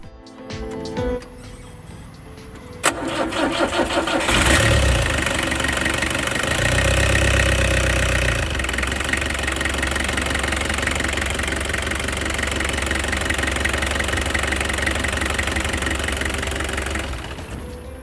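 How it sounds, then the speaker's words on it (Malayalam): A 1991 Mahindra MM 540 jeep with a Peugeot 2112cc four-cylinder engine cranks, catches with a sharp start and settles into a loud, close, knocking diesel-like idle that clatters steadily before fading slightly at the end. "നമുക്ക് ഈ ഒരു എഞ്ചിൻ സ്റ്റാർട്ട് ചെയ്യാം."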